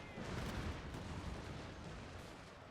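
Massed rifle volley fire from Total War: Fall of the Samurai rolls as a dense, continuous crackle of many muskets at once, loud and sustained with a slight swell near the start and no talk.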